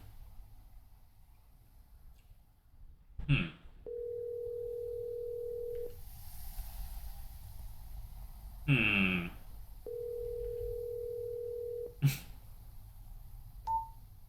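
A phone call rings out through the handset: two long, steady purring tones, each about two seconds long, separated by short clicks and bursts of line noise, quiet and close.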